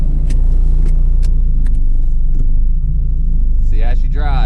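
A 2004 Acura RSX Type-S drives with a steady, loud low engine rumble and road noise heard from inside the car, with a voice speaking briefly near the end.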